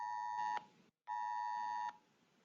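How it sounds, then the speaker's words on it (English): Two loud, sustained electronic alert tones with a short gap between them, harsh and piercing, close up with no talking. "I got a phone alert warning."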